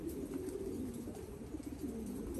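Thai Titan pigeons at a pigeon farm keep up a continuous, low, throaty cooing from several birds at once, steady and dense with no voices over it.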